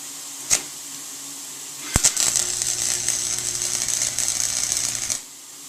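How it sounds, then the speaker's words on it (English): MIG welder striking short tack welds on a lawn mower rock crawler frame: a sharp pop, a brief double crackle, then a steady loud buzzing arc lasting about three seconds before cutting off, with no talking. "Alrighty, so this is ready to weld on, and let me give it a few tacks here."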